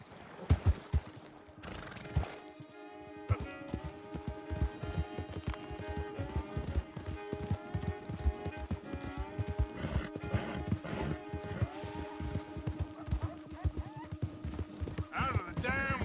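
Horse gallops in the Western video game Red Dead Redemption with steady, fast hoofbeats throughout, occasional neighs, and background music and game voices layered over the hooves.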